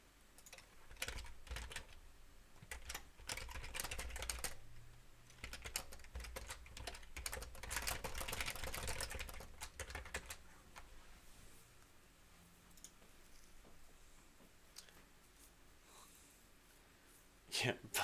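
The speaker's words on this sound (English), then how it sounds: "It's an ergonomic keyboard, so it should keep your hands in a more natural position." Fast typing on an ergonomic computer keyboard, a dense flurry of soft key clicks that grows busier in the middle and thins later, with people talking nearby.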